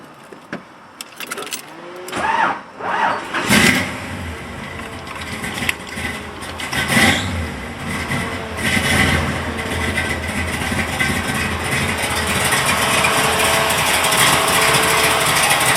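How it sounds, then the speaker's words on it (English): A 1969 Corvette with an L89 427 V8 cranks with several uneven bursts, then catches and settles into a loud, steady idle, close by with no talking. "let's go look inside the car, and we'll start the engine"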